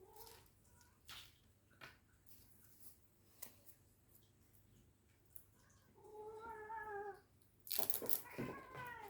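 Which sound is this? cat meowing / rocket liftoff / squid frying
cat meowing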